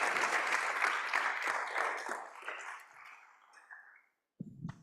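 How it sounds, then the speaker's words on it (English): Audience applause at a small forest holdings conference, a dense crowd of clapping that fades out gradually over several seconds before a brief thump near the end. "the clap is always welcome"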